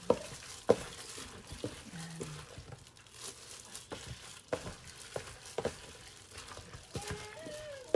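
A spoon stirs food in a frying pan for a home-cooked New Year meal, making soft scraping strokes and occasional clinks against a faint sizzle, quiet and close with no talking.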